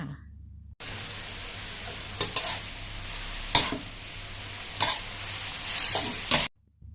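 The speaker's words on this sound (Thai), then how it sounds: "เราก็ผัดต่อ ไปจน น้ำแห้งเลยค่ะ" Shredded papaya and egg are stir-fried in a pan, giving a continuous sizzle with repeated scraping strokes of the spatula, steady and close, until the sound cuts off near the end.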